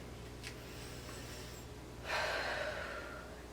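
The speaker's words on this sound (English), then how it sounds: "Take a breath here." A single audible breath drawn during a beginner AeroPilates reformer leg and upper back workout, a short breathy burst rising in a quiet room after a faint earlier inhale.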